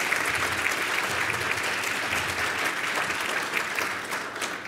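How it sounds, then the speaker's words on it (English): A roomful of people applauds continuously, a dense, even wash of clapping that holds steady and fades slightly at the end. "So let's just give all of our applause."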